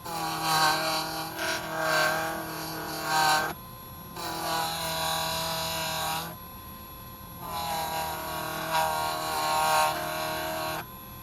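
Scratch-remover compound rubbed by hand across a metal clay bronze piece, a steady close scraping friction in three long strokes separated by brief pauses, with no talk over it.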